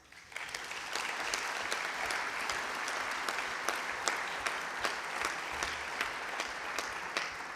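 Sustained audience applause at a political party congress, many hands clapping steadily and evenly from a moderate distance, filling the whole stretch without voices.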